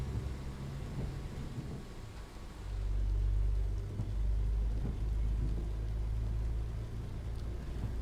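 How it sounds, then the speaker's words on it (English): A computer fan runs hard in the background during a Euro Truck Simulator 2 stream. It gives a steady, low, whooshing rumble that swells slightly partway through, with no voices over it. "you might hear like a fan noise in the background. It's not part of the game, it's my computer going berserk"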